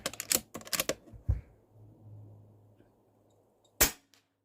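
A Stoeger XM1 Scout PCP airgun fires several sharp, close shots in quick succession, then a single louder crack after a pause, with a faint rumble between shots and no talking.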